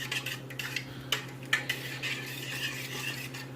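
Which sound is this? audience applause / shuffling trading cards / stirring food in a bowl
stirring food in a bowl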